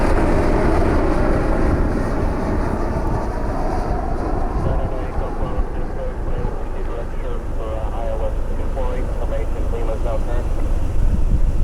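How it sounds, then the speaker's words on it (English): A JetBlue airliner inbound from Boston produces a loud, broad jet roar that holds steadily throughout, heard from the ground while a person talks over it. "JetBlue 641 inbound from Boston."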